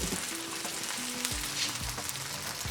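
A kheema paratha fries in oil on a pan, a steady close hiss of sizzling with faint low clicks and shifts underneath, and no talking.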